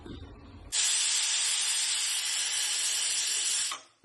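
A pressure cooker on the stove, cooking chickpea curry, lets out a loud, steady hiss of escaping steam. The whistle runs continuously for about three seconds and then cuts off abruptly.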